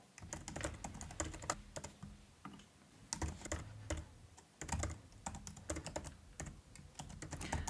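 Typing on a computer keyboard, a steady run of soft, close key clicks in uneven bursts with brief pauses, fairly quiet with no talking.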